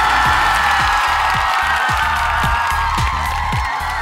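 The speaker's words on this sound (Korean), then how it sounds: "박수 한번 주세요." Applause and cheering from a studio audience at a Korean trot music show, a dense, loud, continuous wash of clapping that fills the whole stretch, with no talk over it.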